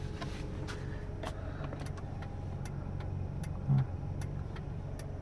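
Hazard lights on a 1997 Honda Prelude with 78,000 original miles tick in a series of sharp, fairly regular clicks inside the car, over a low steady engine hum.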